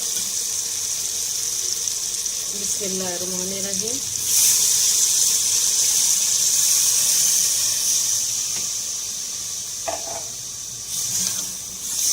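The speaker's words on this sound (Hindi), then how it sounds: "अब हम इसमें तकरीबन 2 से 3 गिलास पानी डालेंगे" A short spoken phrase, then two to three glasses of water pour steadily into a cooking pot of fried mutton trotters with a hissing rush that continues for several seconds before tapering.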